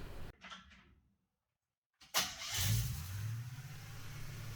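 Old K10 pickup truck with a new Holley carburetor cranking and firing up, a brief starter burst, then a pause before the engine catches and settles into a steady rumbling idle.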